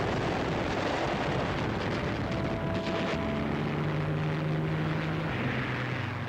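British fighter planes attack German bombers in a Battle of Britain air battle: dense, loud propeller and engine roar with overlapping drones and rumbling, continuous and without talk.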